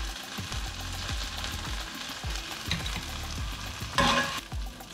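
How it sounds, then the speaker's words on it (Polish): Chicken breast sliced into rounds frying together with red and white onion in a pan, with a steady close sizzle and repeated scraping stirs, a brief louder hiss surging near the end. "I to razem jeszcze podsmażam."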